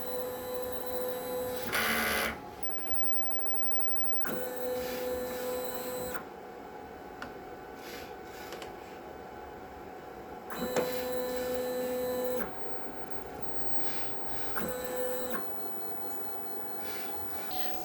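An inkjet printer runs a print head cleaning cycle, its motors whirring and carriage moving in several separate bursts over a low steady hum, close but quiet.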